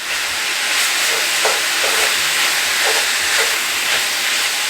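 Seasoned ground meat with garlic paste sizzling as it browns in a pan, a steady close hiss of frying with faint crackles, no voices.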